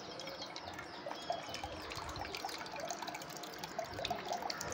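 Tender coconut water pours steadily into a metal vessel, making a continuous trickling, splashing stream with small drips throughout and no voices.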